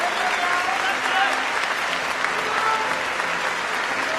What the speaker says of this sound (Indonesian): Mereka berdua akhirnya mendapatkan tepuk tangan yang sangat meriah.